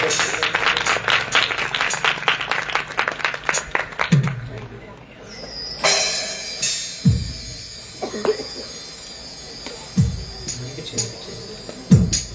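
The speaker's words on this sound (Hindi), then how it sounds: "जोश के साथ ताली बजाओ सब चल" Audience clapping in steady rhythm along to a Hindi Christmas worship song, a run of even claps under singing that fades into scattered voices and a few thumps.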